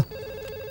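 A mobile phone rings in a steady electronic tone, close by and lasting the whole moment, with a brief louder burst at the very end and no talking.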